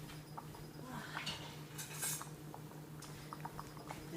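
A large spoon scraping and clinking around the bottom of a cooking pot of pink beans, with soft irregular scrapes and small metallic taps repeating over a low background hum.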